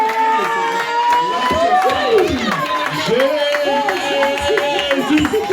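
A church congregation at a praise and worship service cheering and acclaiming the Lord, crowd voices, shouts and clapping rising together while a voice leads over them.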